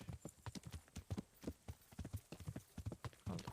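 Steady clip-clop of a horse's hooves in the video game Kingdom Come: Deliverance, an even rhythmic trot of many close, distinct hoof strikes with no talk over them.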